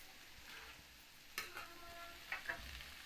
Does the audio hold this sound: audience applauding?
no